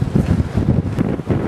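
Gusty wind striking a sailboat out on the water: steady, loud rushing buffeting with pulsing low rumble against the microphone, close and continuous, with no talk.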